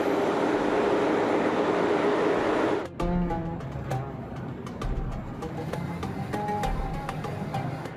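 A metro train in an Uzbek subway station gives a loud, steady rushing roar for about three seconds, then cuts to quieter platform ambience with scattered clicks and faint tonal chirps.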